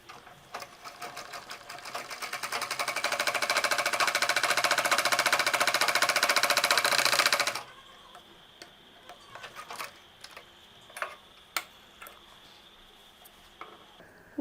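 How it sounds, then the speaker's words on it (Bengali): A sewing machine runs steadily for about seven seconds, stitching the two sides of a homemade reusable cloth face mask, then stops, leaving quiet handling clicks and taps. "আমি মেশিনে এটার এই দুই পাশটা সেলাই করে নিব"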